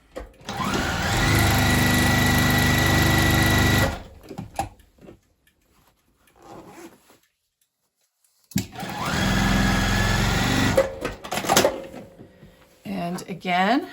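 Sewing machine running close up as it stitches along the zipper tape of a paper-pieced zipper pouch, two loud sustained bursts of whirring separated by a quiet pause, with brief handling noise afterward.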